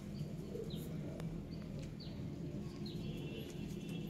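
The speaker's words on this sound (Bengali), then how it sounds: "দোয়াজ পায়রা।" A pair of Dewaj pigeons makes faint, scattered short calls over a constant low hum, quiet and somewhat distant.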